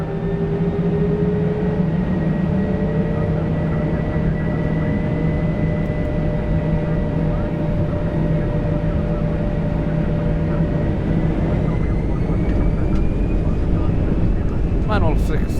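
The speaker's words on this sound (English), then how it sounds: "Takeoff." Saudia Airbus A320 engines during takeoff, heard from inside the cockpit as a loud, steady roaring drone with sustained tones. A brighter whine rises near the end.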